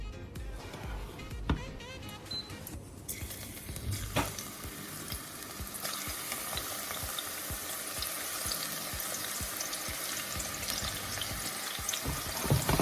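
Garlic frying in canola oil in a pot, a steady close sizzle with occasional stirring clatter, continuing under light speech.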